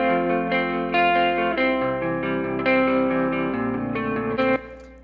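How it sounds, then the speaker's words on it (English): A rock guitar part played twice and panned hard left and right, giving a wide, thick wall of distorted, effects-laden chords with chord changes about every second, steady and loud with no voices. "I have the same guitar part played twice."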